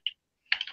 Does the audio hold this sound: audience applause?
no